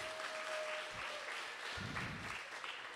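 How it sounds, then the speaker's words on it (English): Audience applause at a PechaKucha Bermuda talk night, a steady broadband patter of many hands filling the room, moderately loud and sustained, with a faint tone and a few low thumps underneath. "I don't deserve the applause, they do, but thank you."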